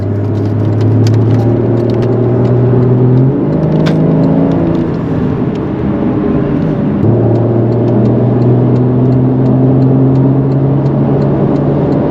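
A 2015 Porsche Boxster S engine hums loudly and steadily on a highway, its pitch climbing through gears with a shift partway, under constant road and wind noise.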